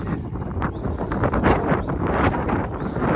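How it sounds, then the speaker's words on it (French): Strong wind gusting around a hilltop hotel in Sweden in cold, snowy weather, a steady loud roar with rushing surges and buffeting against the microphone, no voices heard. "il y a un vent de dingue"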